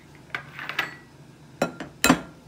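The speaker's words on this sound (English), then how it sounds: "mix it up" Whisk or utensil knocking against a bowl while milk and eggs are mixed for baked macaroni and cheese, a few sharp clinks spread over a couple of seconds, the last two louder and close.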